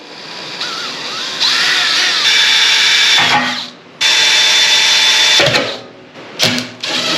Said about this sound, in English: all we have to do is drill 3 holes, and we'll use some small self-tapping screws and put it right down on there